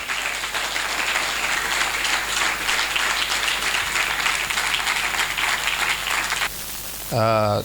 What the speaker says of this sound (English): you are going to keep clapping till he gets here